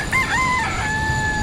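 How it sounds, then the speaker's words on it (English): Several roosters crow across the street at a Hawaii vacation spot, their long rising and falling calls carrying clearly from nearby over a steady outdoor background, with no talking. "432 roosters across the street."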